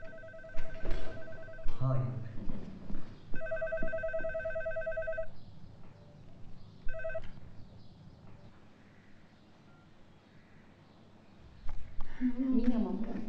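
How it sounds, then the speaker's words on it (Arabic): A landline telephone bell rings in a home during a family meal scene in an Egyptian comedy film, sounding in several loud repeated bursts with short pauses, mixed with room voices and a brief spoken greeting near the end. "هو مفيش حد هيرد على التليفون؟"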